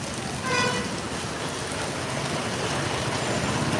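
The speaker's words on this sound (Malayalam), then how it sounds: "പിടുത്തം വിട്ട മഴ കുറ്റിയാടി" Heavy rain pours in a constant, loud hiss at Kuttiady, with a brief horn toot near the start.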